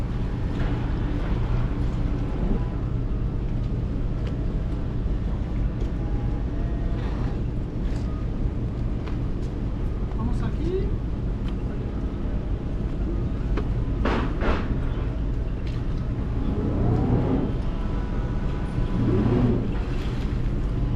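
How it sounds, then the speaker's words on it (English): Princess F70 motor yacht engines and bow thrusters hold the boat off a dock in a steady low rumble, with wind buffeting the microphone and faint bursts of thruster wash near the end. "So now the boat gets held off the dock on the engines and the thrusters"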